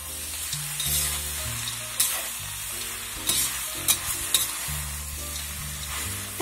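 Shanghainese vegetarian mix with peanuts being stir-fried over high heat, a steady loud sizzle with a few sharp scrapes of the spatula against the wok, alone with no voices.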